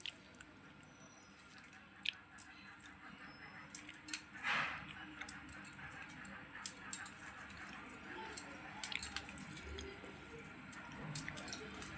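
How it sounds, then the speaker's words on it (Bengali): Hilsa fish tail bharta, Mawa Ghat style, is mashed by hand: faint, close, wet squelches and soft squishes come in irregular bursts over a quiet background. "মাছের কাঁটা বাছা হয়ে গেছে। এখন ভর্তাটাকে মেখে নেব।"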